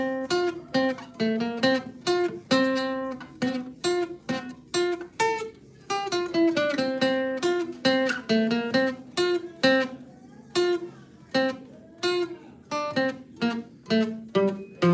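A bright plucked or mallet-like instrument plays a bouncy melody of short repeated notes from the Jeopardy theme and I'm a Little Teapot, steady and clear with no voices.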